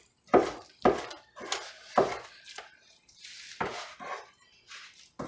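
Onions being chopped on a cutting board in a home kitchen during freezer-meal prep, about eight sharp, fairly close knife chops at an uneven pace, with no talking.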